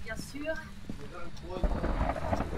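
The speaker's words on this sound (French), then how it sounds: "Ça, c'est tonnerre." Thunder rumbles low and heavy in the ghost-hunting video game Phasmophobia, with rain hiss underneath and voices talking over it.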